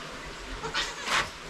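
Goats on a farm, newborn kids among the herd, giving two short faint bleats one after another over quiet background noise.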